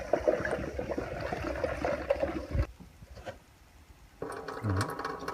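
Apple juice poured into a bottle through a homemade sanitized funnel, a running gurgle and splash that breaks off into a near-silent pause and then resumes with a rising filling glug, close and clear.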